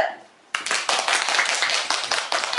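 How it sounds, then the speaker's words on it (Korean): A group claps in applause after a child's turn in a children's animal-naming activity. A short quiet is followed by a sudden burst of clapping that keeps going steadily to the end. "박수"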